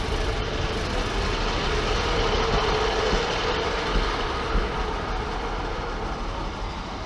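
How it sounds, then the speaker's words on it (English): A Class 185 diesel train pulls out of Manchester Piccadilly station, a steady low engine rumble and rolling drone holding throughout at moderate distance, with no talking. "185 leaves the station"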